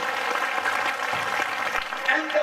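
Congregation applauding at a Ghanaian prophetic church service, a steady dense wash of clapping sustained for a couple of seconds, with a faint voice or two mixed in.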